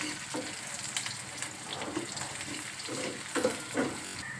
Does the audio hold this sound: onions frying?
yes